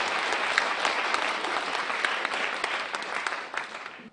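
Lecture hall audience claps for a departed lecturer, steady dense applause at moderate loudness that holds for several seconds before thinning slightly at the close.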